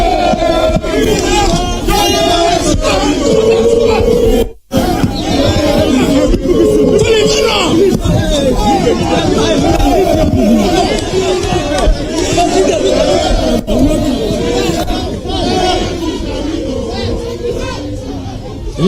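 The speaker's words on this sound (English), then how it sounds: "The crowd is getting really uncontrollable." A large, uncontrollable crowd presses at a polling station during an election, loud dense chatter and shouting filling the whole stretch, with one brief drop-out midway.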